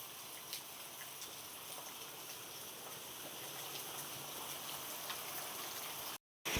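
Heavy monsoon rain falling in a village, a steady dense hiss of rain on surfaces, faint and continuous, ending in a brief cut to silence.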